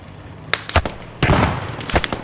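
Several sharp gunshots crack out in an irregular burst from a rooftop position during a Second World War battle reenactment of Operation Market Garden, loud and close with a longer rumbling blast in the middle.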